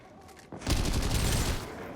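Burst of video game gunfire erupts after a quiet half second, a dense sustained volley of shots that stays loud to the end, with no talking over it.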